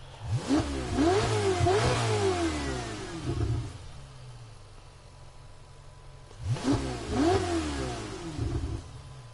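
A race car engine in Gran Turismo 7 revs hard in rising, repeated bursts, drops back to a low idle, then screams up again through several rapid revs.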